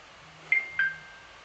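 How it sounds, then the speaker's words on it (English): Mobile phone notification sounds, two short clear electronic chimes about a quarter second apart, faint and close in an otherwise quiet room. "Sorry, my phone giving notifications."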